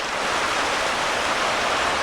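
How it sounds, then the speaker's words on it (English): Slither Creek running strongly after heavy recent rain, a steady, loud broadband rush of flowing water that stays constant and close throughout, with no voices. "This is the Slither Creek."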